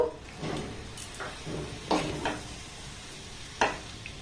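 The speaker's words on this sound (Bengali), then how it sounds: "এবার জলের সাথে সমস্ত উপকরণ এইভাবে একটু আমি নাড়াচাড়া করে নেবো" Rice flour batter is stirred with water in a bowl, giving a few soft, wet scraping strokes at an uneven pace, close but quiet.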